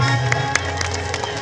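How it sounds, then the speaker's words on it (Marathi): An outdoor crowd at a Bhim Pahat event in Nanded applauds, steady massed clapping with faint cheering beneath a sustained musical drone, short and continuous. "एकदा आकाश थोरा त्यांच्यासाठी जरा जोरदार टाळ्या"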